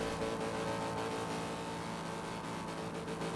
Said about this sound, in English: sounds like I'm pushing this car to the limit.